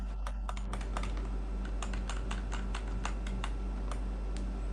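Computer keyboard arrow keys pressed repeatedly while adjusting game settings, a quick run of light, close clicks with no voices, over a steady low hum.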